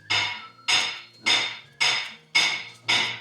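A screwdriver works a bolt into a 2019 Ford Fiesta gearbox, making six evenly spaced metallic ratcheting clicks, each a sharp bright strike that fades quickly, close and fairly loud with no talking.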